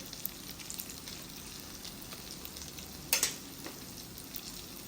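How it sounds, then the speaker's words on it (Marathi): Cabbage doughnuts coated in sesame shallow frying in a pan, giving a quiet, steady sizzle with faint crackles and one brief louder spatter partway through. "आपण हे शॅलो फ्राय करतोय"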